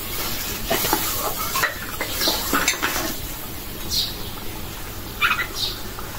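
Meat for a roast sizzles with spices in a pan while a spoon stirs it, making repeated scraping and clinking against the metal over a constant frying hiss, close by.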